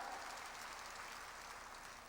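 A church congregation claps together during a worship service, making a fairly faint, continuous patter of applause that lasts about two seconds.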